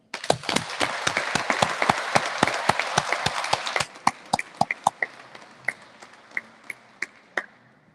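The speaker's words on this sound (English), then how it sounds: "And a round of applause to all of you" A small audience claps at a Toronto Police Association Police Week launch event, first as a dense burst of applause and then thinning into scattered, separate claps that fade out, heard alone and close.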